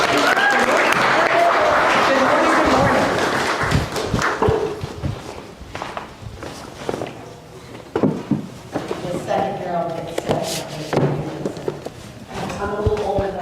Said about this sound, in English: So give a round of applause welcoming for Jodi to come and